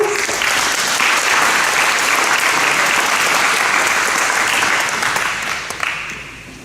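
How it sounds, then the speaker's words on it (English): A hall full of people gives loud, sustained applause at a high school academic awards ceremony, the dense clapping holding steady before tapering off at the end. "please give them a round of applause"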